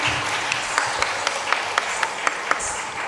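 An audience at a live katha recitation in Shantipur claps along in a steady, regular rhythm, the claps moderately loud over a diffuse roomy background with no talking.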